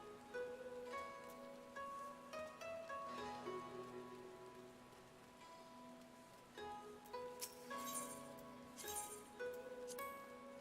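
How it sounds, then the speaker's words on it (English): Steady rain falls in Final Fantasy XIV, a soft continuous patter of raindrops on surfaces layered with gentle in-game music tones, with no speech. "And now it's raining."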